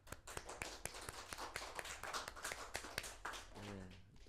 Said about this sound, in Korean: 환영의 박수.